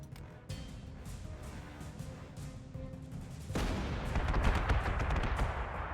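88 artillery gun firing in Panzer Corps 2, a low rumbling backdrop that swells abruptly into a heavier, sustained roar of blast and crackle partway through.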